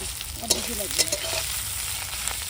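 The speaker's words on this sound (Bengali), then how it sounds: "এই ভাজা হচ্ছে শীতলগুলোকে" Snails frying in oil in a pan at an outdoor village picnic cookout, a steady close sizzle with a few sharp stirring scrapes, no talking.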